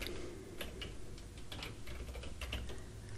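Rapid, irregular clatter of typing on a computer keyboard while entering a formula in Power Query, close and moderately quiet, with uneven bursts of keystrokes and no speech.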